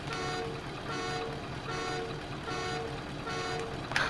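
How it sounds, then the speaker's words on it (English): Truck horn on a Lizard 6522 truck mod in Farming Simulator 22 sounds in steady repeated toots, about one every second, each a sustained tonal blast over a continuous engine hum, fairly close and even in loudness. "Let's start it up and honk the horn."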